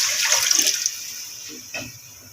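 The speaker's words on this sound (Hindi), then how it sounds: "तो गाइस अभी मैं पानी इसमें ऐड कर रही हूँ। तकरीबन 1 जग लिया है" A jug of water poured into a cooking pot of potatoes, a bright rushing splash for under a second that fades into a softer trickle, then a short final splash.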